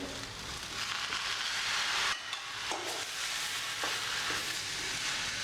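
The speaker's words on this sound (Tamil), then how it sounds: "இது நல்லா வதங்க விட்டுருங்க தக்காளி கொஞ்சம் நேரத்துக்கு வதங்கணும்" Onion, tamarind and tomato sautéing in a pan for onion chutney, a steady loud hiss of frying with occasional stirring scrapes, no talk.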